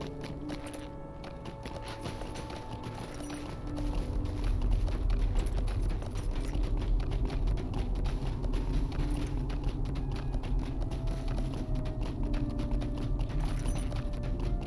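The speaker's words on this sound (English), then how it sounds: "And we will horse up and head north." Rapid rhythmic hoofbeats of a galloping horse in the video game Lord of the Rings Online, steady and close, picking up after a few seconds over a low background hum.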